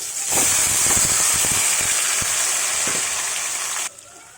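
Stuffed eggplants in gravy drop into hot oil with curry leaves, setting off a loud, steady sizzle with a few clattering knocks that stops abruptly near the end.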